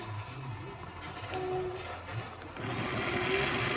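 Pampered Chef Flex+ Multi, a battery-powered blender, briefly whirls tomatoes into puree: a steady, buzzing motor whir that grows louder and harsher toward the end of the short burst, with no talking.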